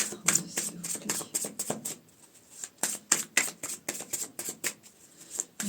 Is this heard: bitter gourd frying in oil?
no